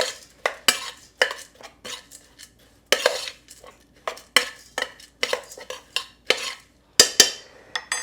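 Salt and baking soda being mixed into a no-sugar-added oatmeal cookie mixture in a bowl, with a rapid, uneven run of loud clinks, clacks and scrapes from the utensil striking the bowl.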